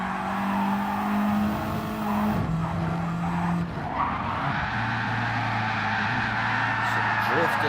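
RC rally cars drifting on a track, their tires squealing in long sustained tones with engine whine throughout, loud and continuous under crowd noise and occasional voices.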